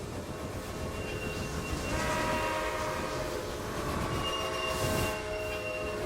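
Trains rolling along in the Railway Empire video game, a steady mechanical rumble of wagons with tonal horn or whistle lines layered over it, continuous and moderately loud throughout with no talking.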